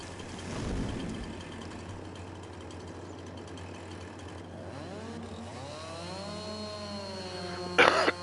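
A chainsaw in the video game Farming Simulator 22 drones steadily while cutting trees, a continuous engine buzz with its pitch rising and falling toward the end, no talking.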